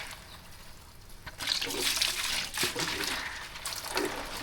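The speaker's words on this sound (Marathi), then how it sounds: "ते पाण्याच्या बॉटल भरायला लागतात" Water runs from a tap into bottles at home during a busy morning, a steady splashing and gurgling flow that swells and varies in pitch as the bottles fill, with no talk over it.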